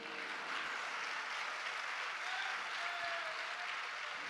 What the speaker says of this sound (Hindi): तालियां नहीं बजाइए आप।